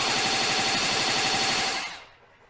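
A rapid barrage of energy-blast attacks from the Die Missile Barrage move in Dragon Ball Xenoverse 2, a dense, loud, stuttering stream of impacts that cuts off and fades near the end.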